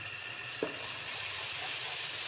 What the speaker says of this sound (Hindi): मसालों की भुनाई करेंगे